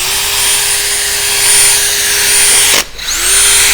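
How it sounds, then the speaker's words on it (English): A drill with a 3M restoration kit pad polishes a faded car headlight, giving a loud, steady whine that cuts out briefly near the end and spins back up, close and alone. "Keep the drill as flat as possible, maybe a slight little angle"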